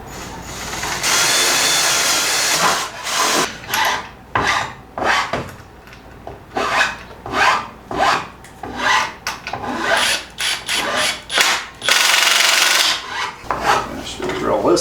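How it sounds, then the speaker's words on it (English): A hole being drilled into wood while building a convertible bed in a van: a steady drill whine at first, then repeated short grinding, rasping bursts in an uneven rhythm, close and fairly loud, with no talking. "I should be able to drill a hole in here."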